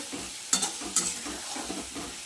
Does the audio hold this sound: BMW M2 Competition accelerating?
no